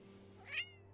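A pet cat hisses once at another cat near a stream camera at home, a short breathy burst rising and fading over a steady low hum.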